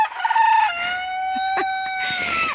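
A rooster crows loudly and close by in one long drawn-out call at a backyard chicken run, with faint clucks from hens underneath.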